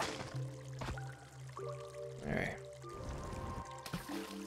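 Water flowing and pouring in the Spelunky 2 video game, a soft gurgling rush with a brief louder splash midway, heard over game music and small clicks.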